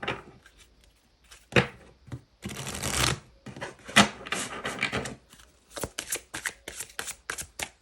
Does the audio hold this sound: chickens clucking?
no